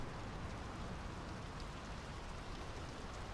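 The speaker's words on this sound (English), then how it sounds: "The rain's picking up." Steady rain falls in the Nordic-set video game Draugen, an even, close wash of drops hissing on surfaces throughout, with no voices.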